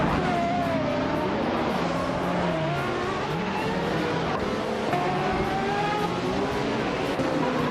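Race cars, including a 1989 Ford RS200 MSA GT, roar continuously in a video game race, with engines whining up and down through gear changes and faint tire squeal, loud and steady throughout with no talking.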